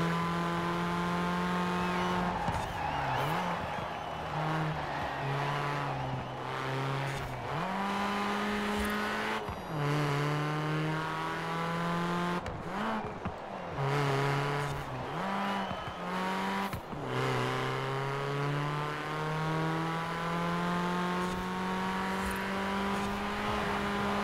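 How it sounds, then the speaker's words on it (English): Car engine in the video game Forza Horizon 4, a steady loud drone rising and falling in pitch through repeated gear shifts and revs, with occasional tire and impact noises over about twenty seconds. "Just going for a casual drive."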